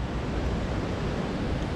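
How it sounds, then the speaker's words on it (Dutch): A river rushing through the Rosengartenschlucht rock gorge in the Alps, a dense, steady roar of flowing water that stays loud and unbroken throughout, with no voices. "De water hoor je al, dus."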